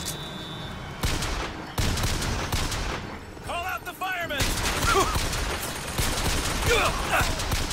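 Bursts of gunfire ring out in the Bioshock Infinite video game, several sharp volleys and rattling shots spread over a few seconds amid busy game ambience, with a voice briefly audible.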